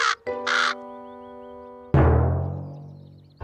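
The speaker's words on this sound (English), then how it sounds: "It's a crow." A cartoon crow caws twice in quick, harsh bursts at the start. Sustained musical tones and a loud crash follow.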